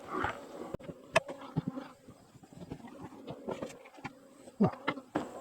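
Honey bees buzz close by at a hive during honey extraction, a steady hum broken by clicks and knocks of hive frames being handled.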